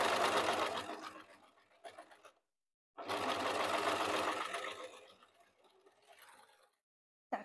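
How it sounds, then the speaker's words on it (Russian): An overlock serger stitches a ring-shaped knit waistband for a sweatshirt, running in loud, close bursts of rapid whirring with short pauses between runs. "Все, иду на верлок, стачиваю, можно также на швейной машинке это сделать."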